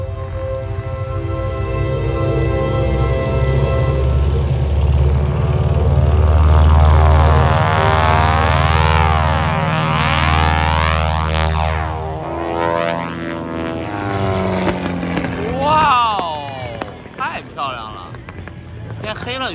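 A propeller airplane takes off at the EAA AirVenture Oshkosh air show, its loud, steady engine drone close and sustained before fading and wavering as it climbs away, with voices chattering nearby.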